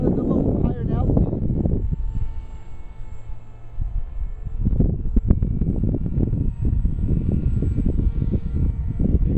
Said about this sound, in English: The wind is blowing a little bit.